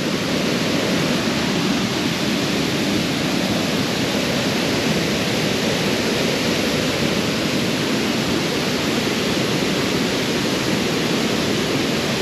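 The Janj river rushing over a waterfall, a dense continuous roar of falling water, loud and steady with no talking.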